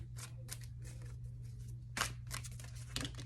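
A deck of tarot cards is shuffled in a quiet room, giving a few soft, quick riffling bursts over a low, steady hum. There is no talking.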